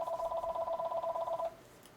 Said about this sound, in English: we're going to ignore the phone